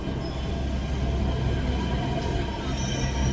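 A metro train rolls into a station, giving a steady, loud low rumble of wheels and carriage noise with faint high tonal whine, continuous with no speech.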